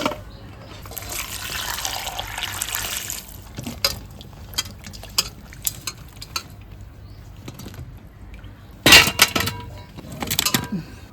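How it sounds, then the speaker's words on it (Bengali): Water poured from a vessel into a pressure cooker in a home kitchen while cooking corn, a steady splashing trickle with intermittent clinks of pots and utensils. "এবার প্রেসার কুকারে একটু জল দেই"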